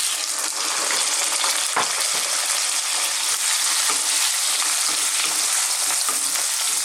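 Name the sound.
potatoes frying in oil on high heat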